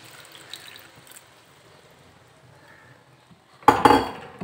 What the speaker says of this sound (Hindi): अब हम इसमें डालेंगे दूध।